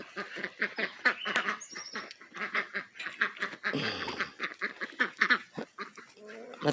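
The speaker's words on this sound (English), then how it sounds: "There's the ducks" Several ducks or geese in a chicken yard honk and quack in quick, uneven bursts, close and fairly loud, with brief calls overlapping and no talking over them.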